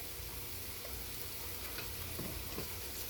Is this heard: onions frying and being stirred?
yes